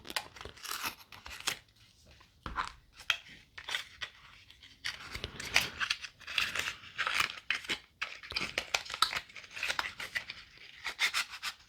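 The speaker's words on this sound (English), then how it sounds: "It's just a matter of tearing it open from the back here." Cardboard packaging of an Olight iE3 EOS flashlight is torn open from the back, with bursts of ripping, crinkling and scraping close by in irregular spurts.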